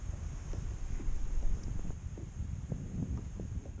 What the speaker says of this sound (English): We do have a little bit of wind, not necessarily unbearable though.